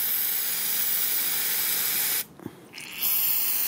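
Brake cleaner sprays from an aerosol can into the cylinders of a 1997 Honda CR-V engine with low compression, a loud, close, continuous hiss that cuts out for under a second with a faint clunk, then resumes.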